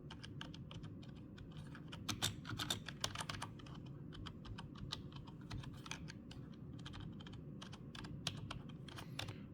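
Rapid, irregular clicking of Logitech MK120 keyboard keys, close up and steady throughout, with a low background hum underneath.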